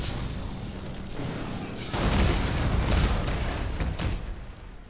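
A grenade explodes in the video game Black Mesa, a loud rumbling blast that swells and lingers amid dense in-game noise, with a few sharper bangs following it.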